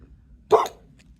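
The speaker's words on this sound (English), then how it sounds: "So Gigi is barking at probably a rabbit or a bird." A single short dog bark rings out once, fairly close and moderately loud, against a quiet outdoor background; the dog is barking at what may be a rabbit or a bird.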